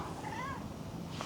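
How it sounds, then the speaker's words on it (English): A single short cat meow, fairly faint, rising and falling in pitch over a low background hum. "Cat is back."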